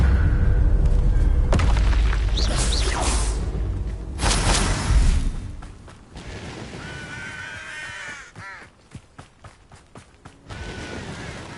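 Spell explosions in the Hogwarts Legacy video game: a few loud, booming blasts with whooshing bursts in the first five seconds, then a scatter of sharper cracks and impacts at lower level.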